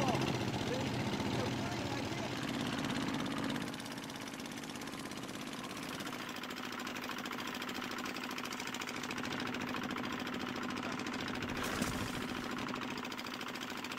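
A loud, steady engine roar drones throughout on a fishing trip with two men aboard, louder in the first few seconds then settling to a constant rumble, with voices faintly under the noise.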